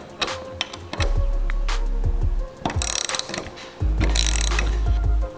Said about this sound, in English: You're going to start by removing the top hat nut.